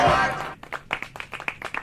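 A loud voice fades out, then a short run of sharp, irregular claps follows, several people clapping briefly before it stops.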